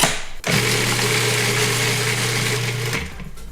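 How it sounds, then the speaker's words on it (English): A food processor whirs steadily at high speed for about two and a half seconds, blending basil, olive oil and grated garlic, then winds down as the motor stops. "Put your food processor lid on and give it a whirl."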